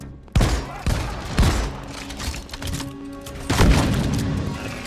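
Exploder enemies in Deep Rock Galactic blow up in a series of heavy booming blasts, several loud bursts spaced a second or so apart over rumbling gunfire, with no talk.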